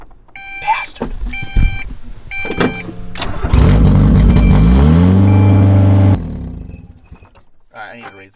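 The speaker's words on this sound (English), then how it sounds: "See if it idles, because it should be warm enough" Mazda Miata engine catching and running up before settling toward idle, a loud steady engine drone for several seconds that cuts off, with a person talking before and after.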